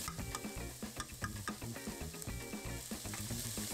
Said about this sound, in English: Get the oil hot, add in the diced onions. Add your diced carrots and minced celery.